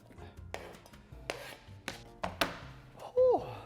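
Knife chopping onions on a cutting board, a run of sharp, irregular close thunks and scrapes, ending with a brief voice.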